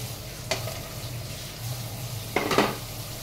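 Cauliflower pieces hit hot spiced oil for a paneer and cauliflower dish, giving a steady low sizzle with two bursts of sharper frying crackle and a clink of utensil against the pan.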